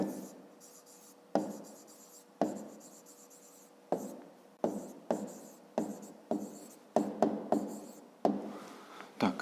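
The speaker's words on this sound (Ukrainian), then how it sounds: "Пишемо в дужках чого грам." Pen scratching across paper in bursts of quick strokes and short pauses, close and quiet, as numbers and words get written out for a school maths exercise.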